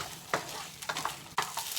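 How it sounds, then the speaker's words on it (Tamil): Small onions and garlic frying in a pan for a village-style Kongu fish curry, with a soft steady sizzle and a few sharp stirring scrapes standing out, close and without talk. "இப்போ வெங்காயம் பூண்டு எல்லாம் நல்லா வணங்கிருச்சுங்க"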